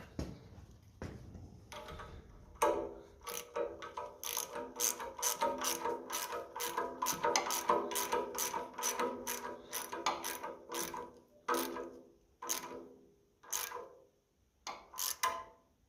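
A ratchet with a 12mm socket turns a fitting on a 1955 Ferguson 20 TEF diesel tractor, rapid clicking pawl strokes in bursts, close and fairly quiet, with pauses between sweeps.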